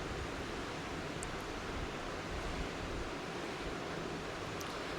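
Chicken chaap pieces fry and are stirred in a pan over a gas flame, giving a steady, dense, close sizzle that stays even throughout without any voices.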